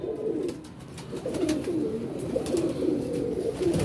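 Pigeons coo continuously in low, throaty rolling calls, close and fairly loud, with several birds overlapping in a busy loft.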